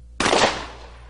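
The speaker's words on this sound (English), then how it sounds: "Here's what happens when you fire a rifled slug at 50 yards." A single loud, close shotgun blast firing a rifled slug at a 50-yard target, with a sharp onset and a decaying tail, heard alone.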